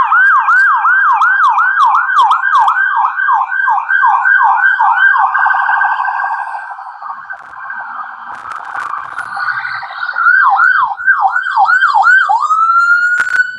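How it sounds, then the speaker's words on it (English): A loud wailing ambulance siren cycles rapidly up and down, fades to a steadier tone, then returns with fast yelps, close and passing by. "that was an ambulance with an Asclepius on it as well"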